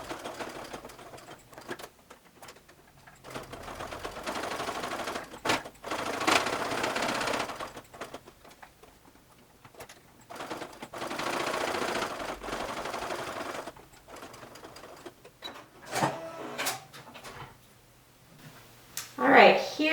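An industrial sewing machine stitches a suede belt bag in several bursts of rapid mechanical chatter separated by pauses. A voice talks between and over the runs.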